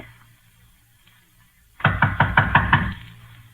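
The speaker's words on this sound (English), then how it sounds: "We're going to knock on the door." Sharp knocks on a door in a radio drama, a quick series of about six raps, close and loud, after a quiet room tone.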